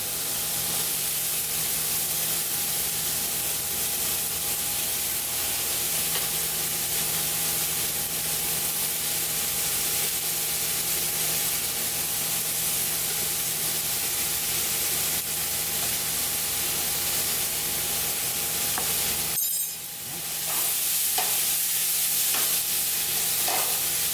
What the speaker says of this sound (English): We're going to add the onions in.